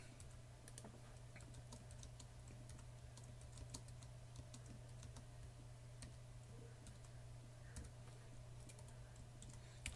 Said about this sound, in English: I'm having a real hard time typing today.